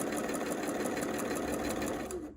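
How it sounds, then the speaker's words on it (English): A sewing machine stitches quilt pieces together in a fast, even mechanical chatter of rapid needle strokes, close and steady for a couple of seconds before stopping. "I'm just sewing to it"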